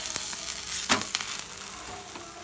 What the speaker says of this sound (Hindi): अब हम इसे पलट पलट पलट के सेक दें, हम दोनों साइड से तेल लगा दिए हैं।